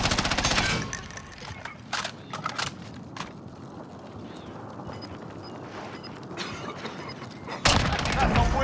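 FFAR rifle fire in Call of Duty: Warzone, a few sharp bursts at the start and end with quieter scattered shots and battlefield clatter between, fairly distant and subdued under faint talk.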